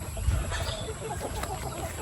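Three aggressive male turkeys call and cluck close by in a farmyard, a dense run of low, gobbling, fowl-like vocal bursts.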